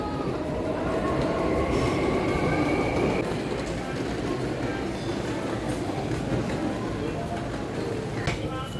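A subway train moves through a Kyoto subway station, giving a continuous broadband rumble of wheels and rail with faint squealing tones. People talk over the train noise.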